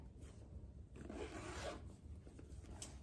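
A zipper slides along a pocket of a pink Dana Buchman purse, a close, quiet rasping run lasting about a second in a calm room with no talk.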